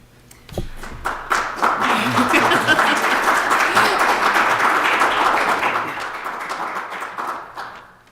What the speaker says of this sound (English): we certainly appreciate the applause